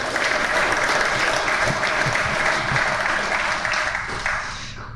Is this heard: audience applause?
yes